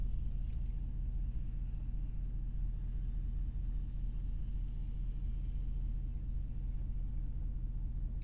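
A Ram 1500 pickup fitted with a Borla S-Type exhaust idles with a low, steady rumble that stays constant and fairly quiet throughout, with no revving.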